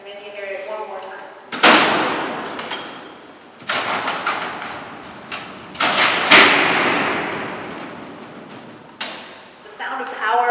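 Loud clanging slams of heavy steel cell doors at Alcatraz, each one rolling along its track and banging shut with a long reverberant echo through the cavernous cellhouse, repeated several times; a voice speaks at the start and end.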